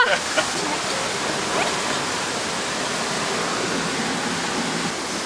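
A steady, roaring rush of a waterfall inside a cave fills the space, constant and loud, with no breaks.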